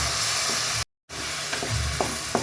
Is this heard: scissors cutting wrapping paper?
no